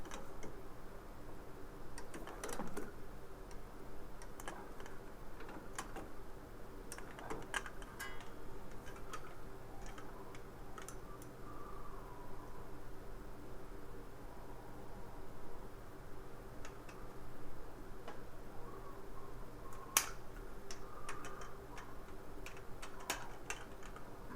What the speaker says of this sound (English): And here we are torquing the caliper bracket itself.